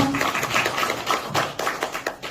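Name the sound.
audience applause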